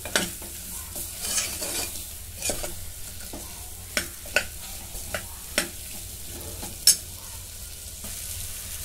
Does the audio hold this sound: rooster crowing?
no